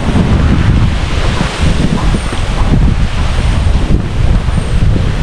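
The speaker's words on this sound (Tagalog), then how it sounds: "May hangin pa oh." Strong wind blows steadily outdoors at a construction site just before rain, a loud continuous rushing roar buffeting the microphone with gusts throughout and no voices.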